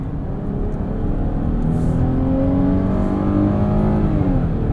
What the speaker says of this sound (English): You do have a low gear mode, so it'll keep the revs high.